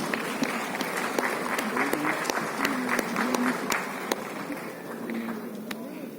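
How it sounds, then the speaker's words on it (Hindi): An audience at a CPWD foundation day ceremony applauds an architecture award winner with a steady, moderate patter of many hands and occasional sharper claps, while voices talk over it. "जोरदार तालियां इस प्रोजेक्ट के लिए"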